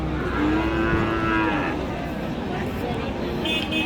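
Cattle low at the Raniganj livestock market in Ghoraghat, Dinajpur, where Friesian and crossbred bulls and calves are sold. One long, loud moo rings out close by over a noisy, crowded market hubbub.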